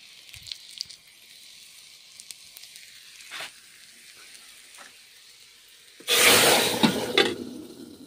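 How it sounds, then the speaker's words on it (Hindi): Garlic goes into hot oil for a dal tempering after quiet preparation sounds, bursting into a sudden loud sizzle and spatter that lasts about two seconds before fading. "तेल जो है जल चुका है, तो इसमें लहसुन ऐड करते हैं।"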